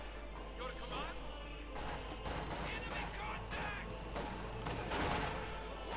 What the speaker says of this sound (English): And we get a bit of further shooting there.